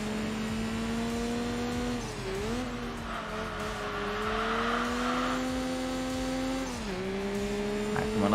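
Race car engine in Enthusia Professional Racing drives a Suzuki Cappuccino, a steady loud whine that sags twice on gear shifts or braking, then climbs again, with tire scrub and a faint crowd-like hiss underneath.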